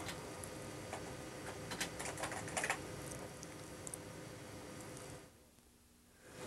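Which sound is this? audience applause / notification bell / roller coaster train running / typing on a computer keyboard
typing on a computer keyboard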